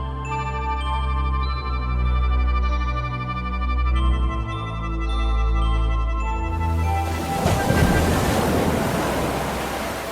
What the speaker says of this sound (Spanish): de pronto oyó el formidable estruendo de las aguas